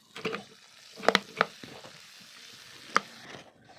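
Browned onion with freshly added ginger-garlic paste frying in a pan, a soft low sizzle broken by a few sharp stirring scrapes and clacks of a spoon, quiet and close.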